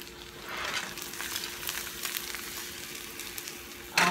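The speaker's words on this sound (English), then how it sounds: "So I'm gonna let the egg just cook a little bit cause that's how I like it." An egg fries in a pan with a steady, soft sizzle and crackle that runs unbroken, heard alone with no voices.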